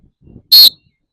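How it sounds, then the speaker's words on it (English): A faint low rustle, then a single short, sharp, loud field hockey referee's whistle blast, released by pulling the tongue away, that starts abruptly and cuts off cleanly. "you basically begin blowing the whistle while your tongue is in the way"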